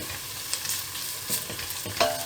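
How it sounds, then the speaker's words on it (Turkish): Tomato paste being stirred into fried onions in a pan for a purslane and zucchini vegetable dish, a soft sizzle broken by scattered scrapes of the spoon, with a sharper clink near the end. "Kavrulan soğana 1 yemek kaşığı kadar salçamız vardı. Onu da güzelce"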